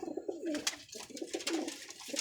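Pigeons coo in low, rounded repeated phrases, kept by a fancier raising a shikari breed, with a few sharper bird calls and flutters breaking in; the cooing runs steadily at close range with no talk.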